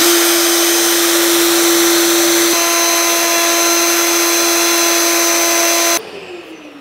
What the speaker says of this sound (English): the LED lighting has to be at an angle of 15 degrees, hence the jig, and it's holding the router at that angle.